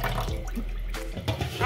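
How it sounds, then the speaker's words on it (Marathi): Water splashes and pours as a dirty old bread basket is rinsed clean, a close, uneven wash of sloshing and draining with short surges and no talk. "चांगला मोकळा धाकळा पाण्यामध्ये धुवून काढते. हे बघा किती घाण पाणी निघत आहे."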